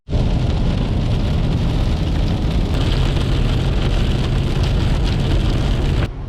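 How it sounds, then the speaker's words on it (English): Steady heavy rain pours continuously and loudly on a surface, a dense unbroken hiss with a low rumbling undertone, stopping abruptly near the end. "But it's been raining all day."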